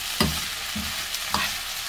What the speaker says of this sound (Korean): 이렇게 계속 볶아서 익히는 거구나